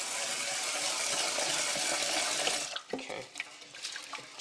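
Tap water runs steadily into a sink while rice is rinsed, a broad loud gush for about two and a half seconds that stops, followed by scattered splashes and wet handling of the grains.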